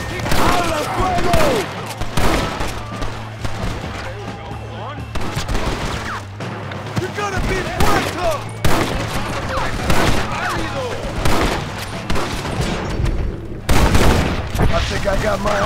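A heavy volley of gunfire in Red Dead Redemption rattles loud and close, with overlapping rifle and pistol shots in dense bursts, brief gaps and sharp cracks, while voices shout through the firefight.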